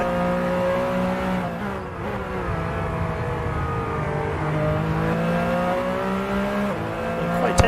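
Porsche GT2 race car engine in a racing game, a loud sustained high-revving drone with gear-change dips and shifting pitch, heard steadily close up throughout.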